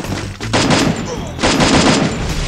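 Sniper fire in the Garena Free Fire video game: two loud, close bursts of gunshots about a second apart, each with a sharp crack and a rolling tail.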